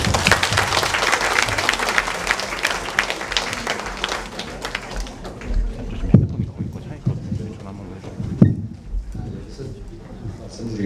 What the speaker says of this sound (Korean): 자일동의 조득현 회장님 말씀을 큰 박수와 함께 청해 주셨습니다